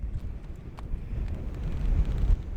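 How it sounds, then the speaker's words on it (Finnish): Wind gusting across an open fell top about 713 metres up in the Finnish wilderness, buffeting the microphone with steady low rumble and rising gusts, with no one speaking. "Täällä vähän se tuulee."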